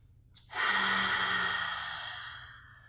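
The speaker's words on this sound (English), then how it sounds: "Take a deep breath in." One long, deep breath during a yoga session, a close, airy rush of air that swells quickly and fades slowly over about two seconds against a quiet room.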